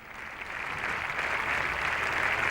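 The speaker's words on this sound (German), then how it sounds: "Jetzt will der Applaus nicht enden." A large crowd's sustained applause, thick and continuous, holding at a strong level without a break through the whole short stretch.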